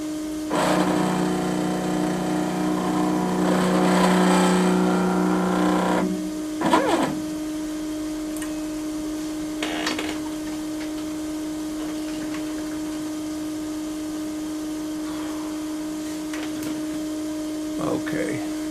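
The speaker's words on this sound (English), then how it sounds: "So what I gotta do now is drill the vertical vacuum port." Grizzly G0705 CNC mill drilling a vertical vacuum port in a polishing clamp, a loud whirring burst for several seconds, then a steady motor hum with a few clunks and brief noises.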